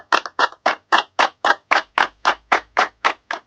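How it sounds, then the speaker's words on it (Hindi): Friends at a party clap in a steady, even rhythm, about a dozen crisp, loud hand claps with no one talking over them. "तालियां।"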